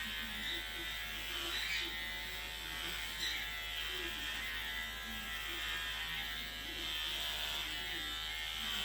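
Electric clippers shaving a dog give a continuous close, steady electric buzz with a low hum, loudness nearly constant throughout, with faint soft sounds in the background and no clear talking.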